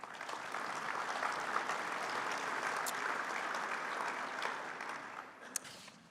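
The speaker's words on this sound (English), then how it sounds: "Please give Charles and Megan a round of applause." Sustained audience applause at a fuel ethanol industry conference general session, honoring award winners; steady dense clapping from a large crowd that holds level for about five seconds, then thins out, with a few louder claps near the end.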